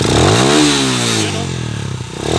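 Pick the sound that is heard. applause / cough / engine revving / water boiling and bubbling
engine revving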